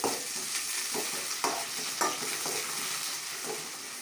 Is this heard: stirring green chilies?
yes